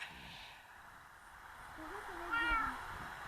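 A single soft, distant meow from a cat in Minecraft rises and falls over a quiet hum.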